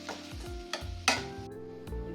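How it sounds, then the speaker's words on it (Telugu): Eggs being stirred into a spicy onion fry in a pan: a few distinct scraping strokes of a spoon against the pan over a soft sizzle, close and moderately loud, with no talking. "ఇంకా ఎగ్స్ వేసి ఒకసారి తిప్పేసి స్టవ్ ఆఫ్ చేసేయండి"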